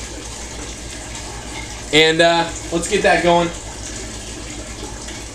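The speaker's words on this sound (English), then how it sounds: "we're just waiting for this thing to fill up" Water runs steadily into an aquarium tank during a water change, a constant close rush of filling water, while someone speaks briefly over it partway through.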